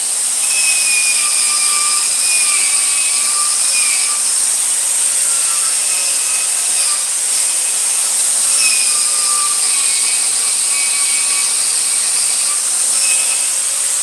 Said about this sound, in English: we're gonna use this tool here. It's just a wire wheel, similar to a wire brush.